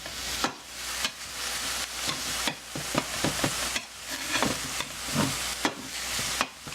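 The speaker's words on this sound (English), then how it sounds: "I'm essentially breaking the ground meat up to finer particles for quick browning" Ground turkey sizzling as a utensil breaks it up and browns it in a pan, with repeated firm scraping and chopping strokes over a continuous fry hiss, close up and with no voices.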